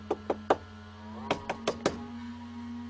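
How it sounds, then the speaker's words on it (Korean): Knuckles rap on the door of an abandoned house, three sharp knocks, a pause, then four more, close and distinct over a low steady hum. "그리고 똑똑 문을 두들겨 했다"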